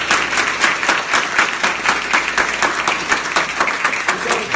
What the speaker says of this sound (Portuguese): Mais palmas para a Saginha.